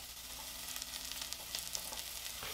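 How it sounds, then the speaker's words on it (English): Vegetables sauté in a pan for spaghetti and meatballs sauce, giving a steady close hiss of frying with small crackles and pops scattered throughout, and no talking. "I know we're just sauteing vegetables here."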